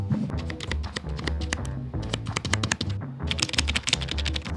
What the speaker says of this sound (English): Just sounds like a normal keyboard.